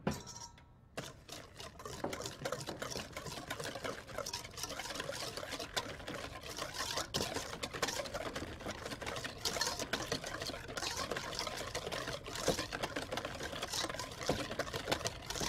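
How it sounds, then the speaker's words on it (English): An electric beater whisking chocolate pudding mix with milk in a bowl, a steady close whirring buzz with wet churning that runs continuously throughout. "Whisk that together."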